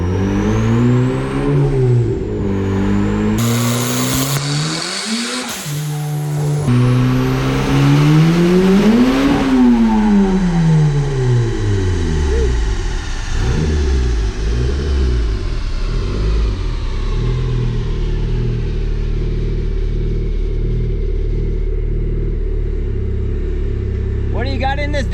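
A car engine revs hard under load on a test run with a slipping clutch, its steady rising and falling engine drone loud and continuous throughout, with voices talking over it.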